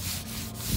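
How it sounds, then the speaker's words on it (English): Someone wet sands a sailboat's hull, a continuous broad rubbing scrape held close and steady for under a second, with low hum underneath. "We're basically wet sanding the hull and cleaning it at the same time."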